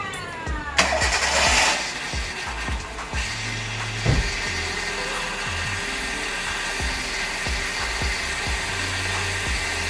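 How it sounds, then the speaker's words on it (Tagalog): A Hyundai Getz engine cranks and catches during power steering hose repair, a short starter whir giving way to a steady close idle that continues through the rest without speech. "Ngayon, i-start uli ang makina."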